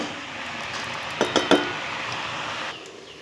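A lid set onto a cooking pan of turmeric- and salt-coated mixed vegetables with fish head gives a few quick metallic clinks close by, over a steady background hiss.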